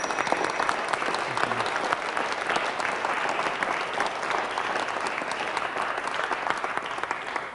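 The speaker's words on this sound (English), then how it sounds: "A big round of applause for our..." A large crowd applauds steadily, a dense wash of clapping that stays loud and even from start to finish.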